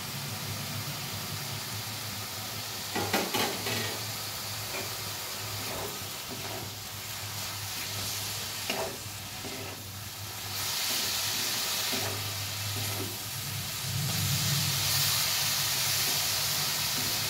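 Radish and fried potatoes in a pan give a steady hissing sizzle that swells louder toward the end, with a few brief scraping knocks early on and no talking.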